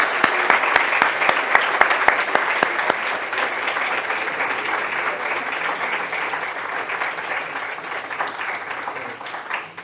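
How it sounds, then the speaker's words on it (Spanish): An audience applauds the authors of the book La Invariable Crisis at its launch, a sustained, dense wash of clapping with a few sharp individual claps near the start, steady and moderately loud throughout. "quiero pedir un aplauso para las autoras del libro por su apoyo y colaboración"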